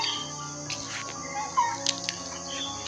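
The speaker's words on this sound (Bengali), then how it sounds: "এইখানে অনেক জেজি পোকা ডাকতেছে" Many crickets chirp at night near a cremation ground, a layered, continuous trill with sharper chirps poking through now and then, moderately close and without talk.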